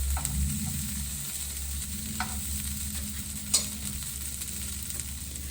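A black bean and corn quesadilla sizzles and fries steadily in a pan, with a low continuous crackle, a couple of brief scraping stirs and a sharp clink partway through.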